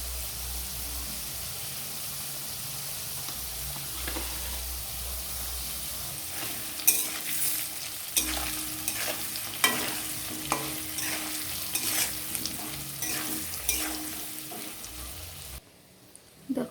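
Ground spice paste with chilli and cumin powder being sautéed for potol alur kosha, pointed gourd and potato, a low sizzle broken by repeated scraping stirs and clinks, close, ending abruptly.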